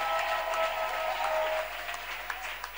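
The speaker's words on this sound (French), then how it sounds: "Acclame très bien pour ton Père." A church congregation at a Dunamis service claps and cheers for the pastor in a dense burst of applause that fades slightly toward the end.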